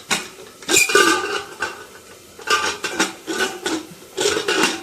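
A metal lid is lifted off a pot of boiled mung lentils in a home kitchen. Close, clattering scrapes and clinks come in several short bursts, and nobody speaks.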